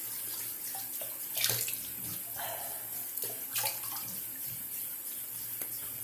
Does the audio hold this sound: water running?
yes